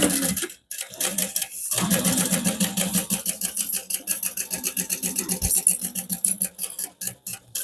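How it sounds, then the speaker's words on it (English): A sewing machine runs steadily and close, top stitching a harmonica hobo bag with an eighth-inch seam allowance. The fast, even needle clatter pauses briefly near the start. "So top stitch this closed using just an 1/8 inch seam allowance."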